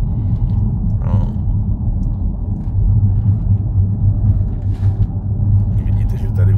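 Audi A6 3.0 BiTDI engine rumbling steadily from inside the car as the automatic gearbox downshifts on a small hill, a low continuous drone with a faint voice briefly over it.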